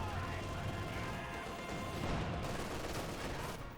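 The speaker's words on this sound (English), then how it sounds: "Panzerfaust firing once again" Panzerfaust anti-tank launcher fire in Company of Heroes 2 amid a dense wartime battle din, with booms and crashes layered over continuous loud rumble and gunfire throughout.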